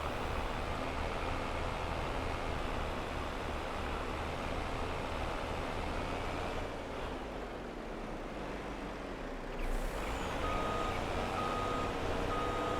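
In Farming Simulator 22, a tractor pulling a bale trailer backs up, its steady engine drone running throughout under repeated reversing beeps, with no talk.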